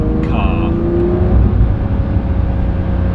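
Porsche 992 S/T engine accelerating through a mountain-pass tunnel, a loud close roar with a rising whine that then settles into a steady drone, talk heard briefly.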